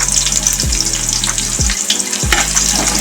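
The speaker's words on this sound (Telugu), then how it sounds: "సో ఆయిల్ వేడెక్కింది, కొంచెం బగారా ఆకు వేసుకోండి. కొన్ని ఆనియన్స్ వేసుకోండి." Onions and a bay leaf go into hot oil, giving a loud close sizzle with a few low thumps as pieces drop in.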